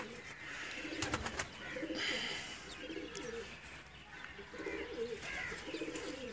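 A Ferozpuri pigeon held in the hand coos in repeated soft, low phrases, several rounds over a few seconds, close and fairly clear with some background noise.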